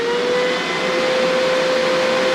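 Loud, steady whooshing of computer fans spinning at full speed in an Alienware Aurora R5, with a constant whining tone running underneath, no pauses.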